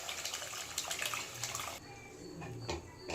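Tamarind water pours steadily into a pan of fish curry being cooked, a close, continuous splashing that eases off partway through and then picks up again.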